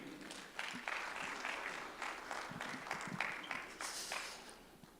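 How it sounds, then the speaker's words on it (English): An audience at a school evening event claps for the principal, a steady patter of many hands heard from a distance and fairly faint, lasting about five seconds with no speech over it. "Let's clap for our principals, please."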